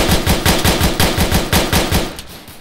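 Loud automatic gunfire in ARMA 3, a steady rhythm of about a dozen sharp close shots in quick succession that stops abruptly near the end.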